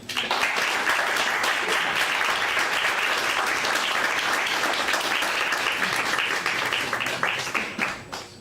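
An audience at a poetry reading breaks into steady, dense applause that holds at full strength for several seconds before starting to thin out at the end.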